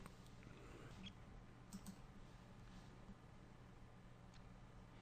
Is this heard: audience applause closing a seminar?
no